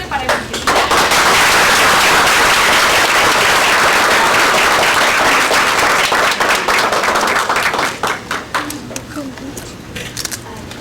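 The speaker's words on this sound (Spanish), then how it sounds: "les voy a pedir un aplauso bien grande para Evangelina" A large audience at an evening event gives Evangelina loud, sustained applause, a dense roar of clapping that thins into scattered claps toward the end.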